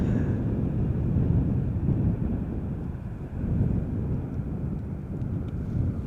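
A Transavia airliner flying for KLM arrives at Schiphol Airport, heard as a steady, moderately faint jet roar mixed with wind noise, with a slight swell and dip in the middle.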